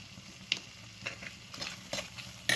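Curry for a mealmaker (soya chunk) dum biryani cooking in a pan, a soft steady sizzle broken by a few sharp stirring scrapes of a spoon against the pan, close by with no talking.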